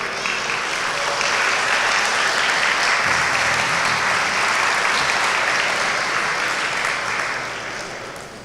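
A church congregation claps at a worship service, a loud sustained wash of applause from many hands that holds steady and eases off in the last seconds.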